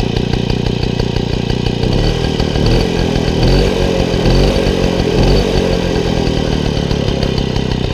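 A 1960 Motobécane AV88 moped's small engine idling close up, a loud steady putter with rapid regular firing pulses and slight unevenness in the middle, alone without talk.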